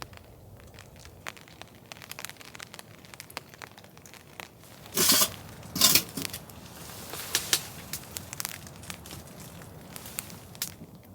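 Hail pelts a winter hot tent at a campsite, landing as a dense, close patter of sharp ticks with several louder, rushing bursts in the middle.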